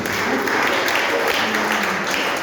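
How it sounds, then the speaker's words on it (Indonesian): Congregation applauding for God during a church sermon, a broad, continuous wash of clapping from a sizable crowd, steady and fairly loud, without clear speech over it. "Tepuk tangan untuk Tuhan"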